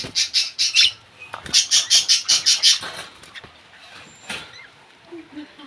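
Pet birds in a breeding colony give loud, rapid squawking calls in two quick bursts of about half a dozen each, followed by scattered single squawks and softer chatter close to the microphone.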